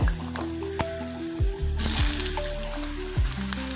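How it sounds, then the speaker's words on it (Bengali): Diced potatoes dropped into hot oil for mutton keema, with a steady frying sizzle broken by clinks and scrapes of a utensil, and a louder burst of spitting as more potato hits the pan partway through. "তেলটા গরম হয়ে গেছে, এবার এই ডুমো করে আলুটা প্রথমে"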